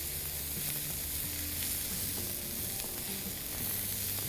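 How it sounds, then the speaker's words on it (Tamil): Ivy gourd (kovakkai) roasting in oil in a pan, a dense continuous sizzle heard up close and alone, steady in loudness for the whole stretch. "இந்த ஆயிலில் அந்த கோவக்காய் எல்லா சைடும் பட்டு அந்த ஆயிலில் ஒரு ரெண்டு நிமிஷம் நல்லா வதங்கணும்"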